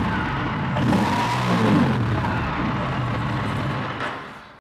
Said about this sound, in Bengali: এটা এক্সজস্ট নোটটা শোনায় আপনাদের